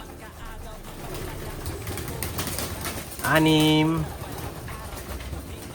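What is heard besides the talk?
pigeons cooing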